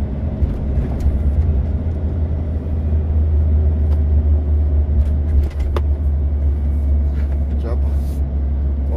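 A Nelt truck heading toward Mostar on the road down Bradina gives off a heavy, steady engine rumble, and people talk over it throughout.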